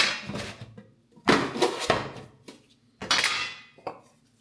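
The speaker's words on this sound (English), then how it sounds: "I'm taking my loaf pans" Metal loaf pans clank and rattle against each other and a hard surface in several bursts, fairly close, with short pauses between handlings.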